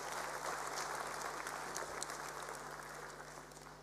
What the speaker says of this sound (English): Let's give them a big, big hand of applause.